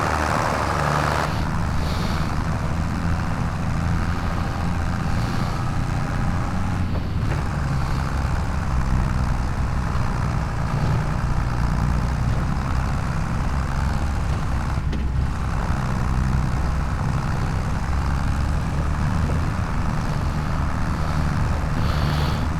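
A small tractor engine runs steadily on a farm during tree cutting and cultivating, a continuous loud droning rumble that holds through the whole stretch with no voices.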